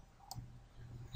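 A computer mouse clicks in CATIA design software: two sharp, close clicks, one early and one at the very end, over a faint background hum, with no talking.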